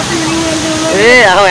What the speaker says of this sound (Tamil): வாட்டர் பால்ஸ் பக்கத்துல இப்ப போறோம்.